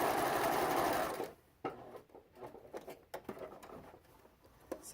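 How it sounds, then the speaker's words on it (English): A sewing machine stitches fabric along a half-inch seam in one loud, fast whirring burst lasting just over a second, then gives way to faint tapping and handling sounds. "I'm going to line my fabric edge up with the 1/2 inch mark. And I'm going to sew at a 1/2 inch."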